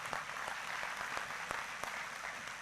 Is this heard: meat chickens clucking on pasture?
no